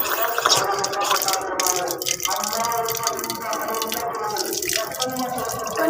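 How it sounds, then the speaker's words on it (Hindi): Water spills and drips steadily at a pigeon enclosure, a continuous close splashing and trickling that runs throughout, with faint voices in the background. "पानी सारा गिरने लग गया है।"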